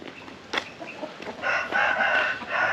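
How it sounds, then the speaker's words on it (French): Fighting roosters crow at a cockfight training camp in Phuket, Thailand, several overlapping cock-a-doodle-doo calls rising loud and close after scattered clucks. "des camps d'entraînement pour les poulets, pour les coqs, pour les combats"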